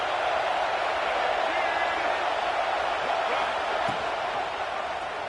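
A football stadium crowd at an LSU at Oklahoma game roars in a steady, dense wash of cheering that holds loud for several seconds with no clear breaks.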